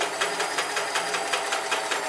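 A Sears Kenmore 158 sewing machine sews a short zigzag stitch, a close, steady and rapid mechanical chatter of even pulses that never pauses.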